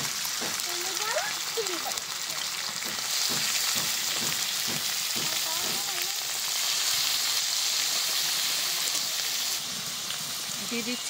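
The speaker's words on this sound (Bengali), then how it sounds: "এবার চিংড়ি মাছগুলো প্রথমে ভেজে নেব। তার জন্য কড়াইতে দিয়ে দিচ্ছি সর্ষের তেল।" Shrimp fry in mustard oil in a wok with a loud, steady sizzle and crackle that fills the whole stretch, plus a few soft knocks as the pieces are moved and a voice talking over it.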